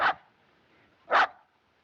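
A dog gives two sharp, separate barks about a second apart, close and clear against near silence.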